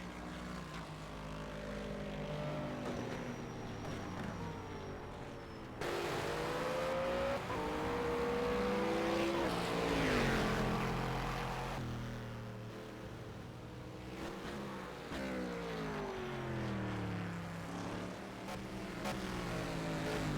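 Race car in a sim racing game accelerating hard out of a corner at the Bahrain circuit during an endurance event, engine note rising and shifting through gears, loud and continuous with tonal harmonics sweeping upward.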